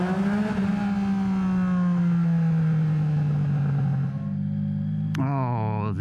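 A 2023 Yamaha XSR900 fitted with an SC-Project exhaust drones loudly and close, its steady engine tone slowly sinking before a sharp rev blip rises near the end.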